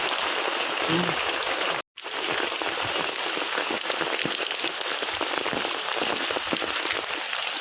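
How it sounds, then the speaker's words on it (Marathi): Heavy rain pours steadily over a village work site where a roof shelter is being built to cook rice, a dense continuous hiss broken by one brief dropout, with a faint voice early on. "पण पाऊस काय थांबणार नाही पावसानं जोर केलेलो"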